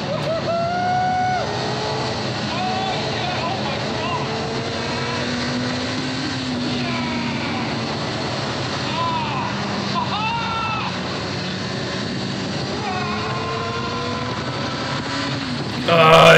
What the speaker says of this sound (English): And just hearing that engine absolute scream.